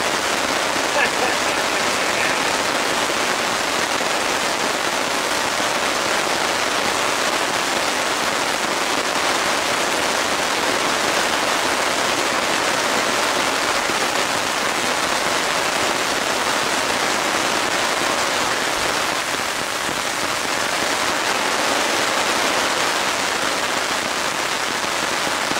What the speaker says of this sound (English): Can see that because it's raining really hard.